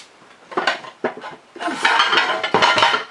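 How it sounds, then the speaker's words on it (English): Plate being taken from a stack in a home kitchen: several bursts of dishes and cutlery clattering and scraping, close and fairly loud, with short pauses between them. "I'm going to get myself a plate."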